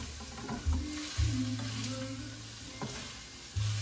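Fresh thyme stirred into browned ground beef in a pan for Bolognese sauce, with a soft continuous sizzle and a few thumps and scrapes of the spoon, close and without talking.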